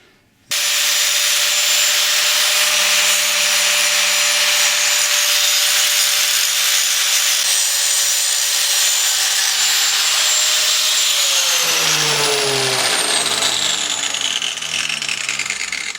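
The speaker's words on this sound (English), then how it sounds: "I'm just going to tidy them off a bit with a grinder" An angle grinder grinds and tidies the edges of freshly cut metal pieces for an ammo-can rocket stove, a loud, continuous high whine close by that shifts pitch and winds down near the end, with no talking.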